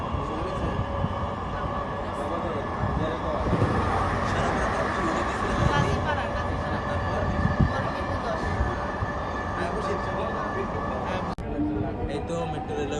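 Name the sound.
riding inside a Dhaka metro rail train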